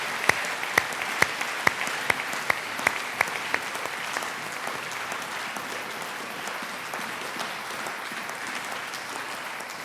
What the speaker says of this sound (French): Est-ce que nous pouvons d'abord acclamer la parole du Seigneur?